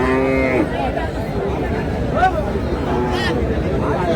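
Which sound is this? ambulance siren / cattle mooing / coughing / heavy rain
cattle mooing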